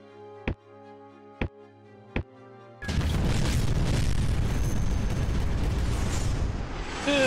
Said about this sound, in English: So we got cannons taking care of that line pretty well.